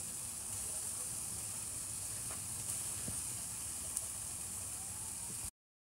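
Steak sizzles on a very hot barbecue grill with flames flaring, a steady faint hiss and crackle running throughout with occasional small pops, then cutting off abruptly near the end.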